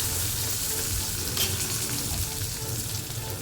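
Onions with curry leaves fry in a pan, a close continuous sizzle with stirring scrapes and a brief brighter burst midway, steady throughout with no speech.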